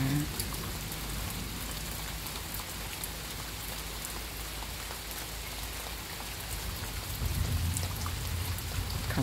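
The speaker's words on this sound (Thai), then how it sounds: "เสียงฝนตกนะคะ" Steady rain falls throughout under an overcast sky, a dense continuous hiss of drops on surfaces, close and fairly loud with a slight swell near the end, no voices.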